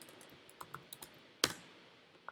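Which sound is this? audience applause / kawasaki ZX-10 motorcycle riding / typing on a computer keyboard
typing on a computer keyboard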